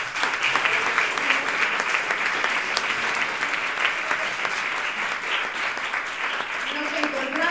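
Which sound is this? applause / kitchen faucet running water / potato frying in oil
applause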